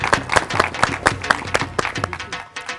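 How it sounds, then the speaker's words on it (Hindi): Applause rings out with rhythmic, steady clapping throughout, loud and close, like an audience clapping in unison. "बहुत तालियां जी उनके लिए"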